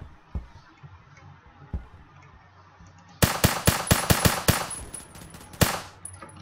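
A video game gun fires a quick burst of about ten sharp, loud shots in close succession, then one final shot, after a few quieter isolated pops against a low background.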